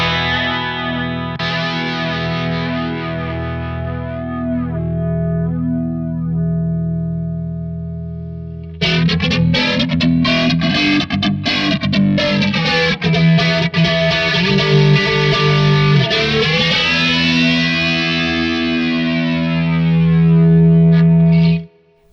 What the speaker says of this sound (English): if you're looking for a bit more of that jet plane swoosh, you might want to play around with the delay time and also the regeneration